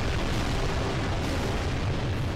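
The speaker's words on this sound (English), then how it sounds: "So remember which ones cause those purple explosions." Dense barrage of purple explosions in the video game Global Defence Force, a continuous loud rumbling roar of overlapping blasts with no clear gaps, heavy low booming throughout.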